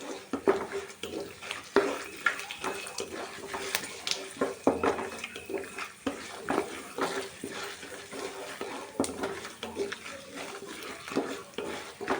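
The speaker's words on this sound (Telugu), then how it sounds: "పోపు ఎక్కడ మాడకుండా" Peanuts and lentils for a tempering frying in oil in a pan while being stirred, a steady close sizzle broken by frequent scraping and clinking of the spoon against the metal.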